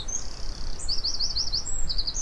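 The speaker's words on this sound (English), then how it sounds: "Here's a nice wren." A wren sings high, rapid trilled phrases in a quick sequence of repeated notes, recorded with no gain so it sounds fairly faint over a low background hiss.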